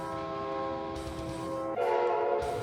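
A train sounds a loud, sustained multi-tone horn while rolling past close by, the tone shifting lower partway through as the rumble of the cars continues beneath.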